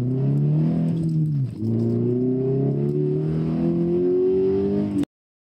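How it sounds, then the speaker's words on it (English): Engine of a sports car fitted with an aftermarket throttle controller, droning steadily, then dipping and rising again as the throttle is blipped on a downshift, loud and close until it cuts off abruptly. "when I blip the throttle in a downshift, it's closer to what I expect the blip to get me"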